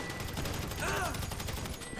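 Sustained gunfire from a shootout in Grand Theft Auto V, dense and continuous throughout, with a shrill tonal sweep rising and falling in the middle over the din.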